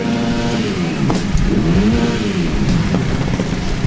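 A Kawasaki KX250 motocross bike at a motocross race revs loudly and steadily, its pitch swooping up and down in repeated surges over a constant mechanical roar.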